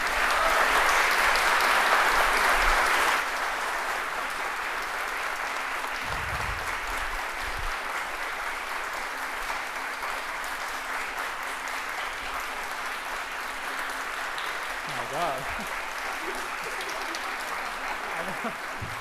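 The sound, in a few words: audience applause for student panelists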